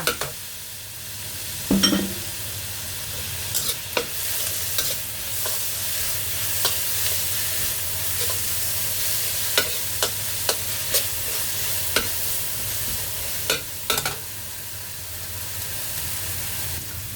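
Kimchi stir-fried in a pan for kimchi fried rice, a steady low sizzle running throughout with occasional sharp scrapes and clacks of a spatula stirring, close and moderately loud, no voices.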